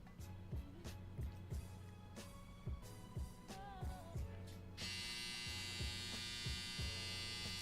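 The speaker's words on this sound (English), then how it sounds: "That's my dryer." A household clothes dryer runs nearby with a regular thumping, humming rhythm, then shifts into a louder, brighter, steady whir partway through.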